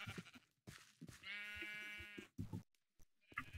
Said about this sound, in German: Hier sind ganz schön viele Schafe